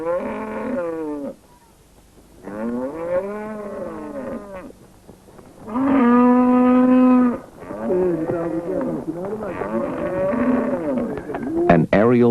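Cattle moo loudly and close by, several long lowing calls with rising and falling pitch, separated by short pauses and overlapping near the end.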